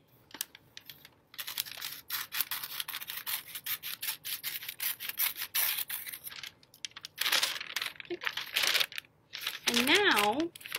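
Scissors cut open a bag for a paper plate scarecrow craft, with repeated crinkly snipping and rustling of the plastic in bursts and short pauses, close by; a voice talks briefly near the end.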